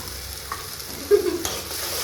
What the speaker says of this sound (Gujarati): પછી પાછું હલાવે રાખવાનું